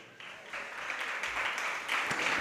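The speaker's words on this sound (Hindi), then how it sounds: "ताली कैसी बज रही है?" An audience claps at a Jain religious discourse with a monk, a brief, moderately quiet burst of applause that swells slightly over a couple of seconds.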